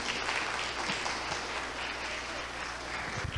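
Audience in a radio auditorium applauding a guest at a Santa Bárbara singing program; thick, continuous clapping at full strength throughout, dense and close with cheering voices mixed in.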